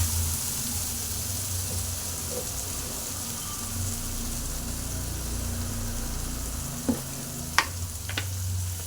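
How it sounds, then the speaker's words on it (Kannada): Garlic frying in a pan for a bitter gourd gojju, a steady broadband sizzle throughout with a low hum beneath and a few sharp clicks of a spoon near the end. "ಬೆಳ್ಳುಳ್ಳಿ ಹಾಕಿ ಫ್ರೈನ ಮಾಡ್ಕೊತಾ ಇದ್ದೀನಿ."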